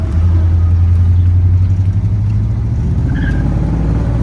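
A 1965 Buick Wildcat with a 425 V8 and dual quad carburetors idles with a deep, steady rumble nearby, holding a low throb throughout.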